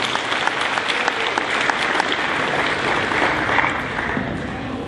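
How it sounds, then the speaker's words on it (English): A large crowd at an eighth grade school celebration claps steadily and enthusiastically, a dense, even wash of applause. "Please give them a round of applause for their outstanding work over the school year."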